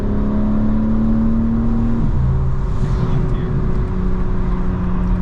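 BMW M4 Competition engine revving loudly from inside the cabin as it downshifts through the gears, pitch stepping up with each shift, with a steady sustained engine roar throughout.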